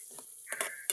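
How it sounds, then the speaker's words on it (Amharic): Finely ground onion fries in a pan, giving a brief sizzle with a few stirring scrapes, close and fairly quiet. "በጣም አድቅቄ የፈጨሁትን ሽንኩርት መጥበሻ ላይ አደረኩና"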